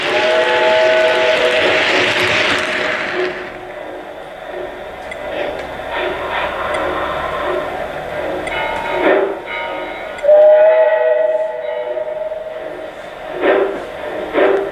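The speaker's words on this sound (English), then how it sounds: "That's a mournful whistle that should be going through the mountains." A Reading tank engine steam locomotive whistle sounds in several intermittent mournful blasts amid a bright burst of steam hiss and rumbling train noise.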